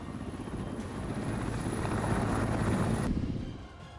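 A military helicopter drones steadily overhead, its rotor and engine noise swelling slightly and then easing away near the end, with no voices.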